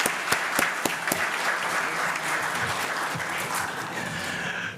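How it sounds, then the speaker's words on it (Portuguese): Audience applause at the 27th Top of Mind Mercado Comum business brand awards ceremony in Minas Gerais, 2022: steady, dense clapping from a large hall crowd, with a few sharper claps near the start, sustained evenly for several seconds. "por favor, uma salva de palmas."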